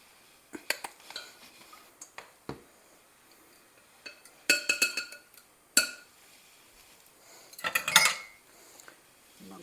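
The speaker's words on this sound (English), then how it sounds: "I'm going to stir this around and make sure that it's all mixed in there really well" A spoon knocks and scrapes around a bowl of homemade holiday dessert batter made with real vanilla, giving several irregular clinks and scrapes with short pauses between them, close and fairly quiet.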